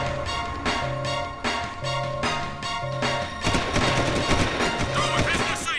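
Guards in Jak 2 open fire in rapid bursts of gunshots and crashes, loud and dense, layered over a steady musical game score that swells into a thicker barrage toward the end.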